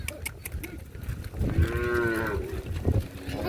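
A village cow lets out one long, deep moo close by, rising out of a low rumbling background, with a few fainter bovine sounds around it.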